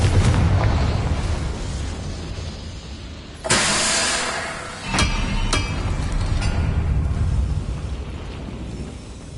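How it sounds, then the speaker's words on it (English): Confringo, a fiery blast spell cast in Hogwarts Legacy, erupts in a sharp explosion partway through, then a second burst follows, both over a steady low rumble of background game sound. "Confringo."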